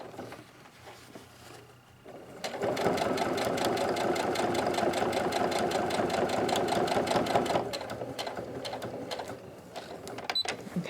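A sewing machine top-stitches a fabric face mask with ties and pockets, a loud, steady mechanical whir with rapid rhythmic needle ticks running for several seconds, then slowing briefly and resuming, with no talking.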